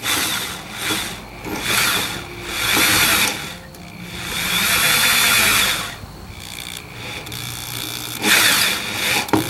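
A power drill grinding a bit into metal before tapping in several long bursts, whining and rasping up close with short pauses between them.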